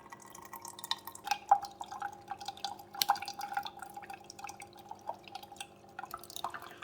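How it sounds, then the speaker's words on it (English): Vinegar and water solution running through a Cuisinart Coffee Center K-cup side during descaling, with steady faint drips and trickles that plink repeatedly over a quiet background. "now it's going to run that vinegar and water through the machine"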